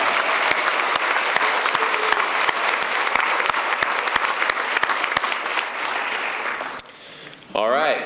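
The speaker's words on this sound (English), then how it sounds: "So even though she's not here, we can give a big round of applause for Lena Garcia." Audience applause at a 2019 county education awards ceremony, a steady, loud wash of clapping with sharp individual claps, lasting about seven seconds before dropping off into a brief lull and a voice speaking near the end.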